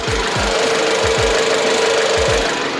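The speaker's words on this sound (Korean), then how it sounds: "휘발유 엔진을 탑재하고 있는 만큼 차량 엔진 소음도 조용하고 정숙한 차량이고요" A 2019 gasoline SUV engine idles with the hood open, giving a close, steady hum with a constant mid tone and regular low thumping pulses about twice a second throughout.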